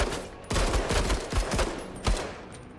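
Rifle gunfire in the tactics video game Menace: several sharp shots in an uneven burst, each with a short crack and quick decay, loud and close with no talk over them.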